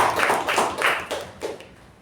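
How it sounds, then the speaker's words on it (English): Applause for the acting president at a Toastmasters club meeting, heard as a short burst of hand clapping that comes in uneven pulses and tapers off toward the end, with no one speaking. "So huge round of applause for our acting president, Toastmaster Pavani."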